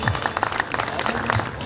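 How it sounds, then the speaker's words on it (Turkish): An audience at an AK Party gathering in Bağcılar gives the district chairman a short, dense round of applause, steady and fairly close. "kuvvetli bir alkış alabilir miyiz"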